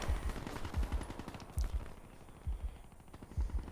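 Gunfire in a multiplayer shooter video game rattles in repeated rapid bursts of shots, moderately close and sharp, with brief gaps between volleys and no talk.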